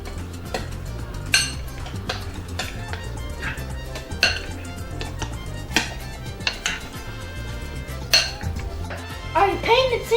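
Salsa gets mixed with lime juice and seasoning in a bowl, and a utensil clinks and scrapes against the dish in irregular knocks. A few sharper taps stand out, and a voice speaks briefly near the end.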